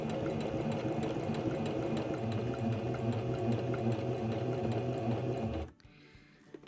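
Sewing machine stitching fabric for a washable mask, running in a fast, steady, close whir for over five seconds, sewing backward for a back-tack, then stopping abruptly.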